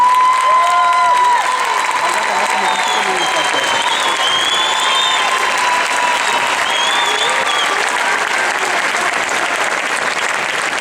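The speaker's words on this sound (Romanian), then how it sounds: "haideți să susținem cu aplauze evoluția perechii cu numărul 59" Sustained audience applause fills the hall at an adult Latin dance masters competition for couple number 59, a steady dense wash of clapping with faint voices and music tones above it, loud and continuous throughout.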